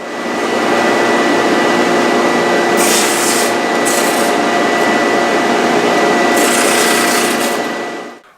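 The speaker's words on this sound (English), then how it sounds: "after a couple hours with the drum sander, it's about what I figured it was going to take" Drum sander working wood for a table top, a loud continuous rough rubbing roar with brief brighter bursts of abrasive hiss partway through, then cutting off at the end.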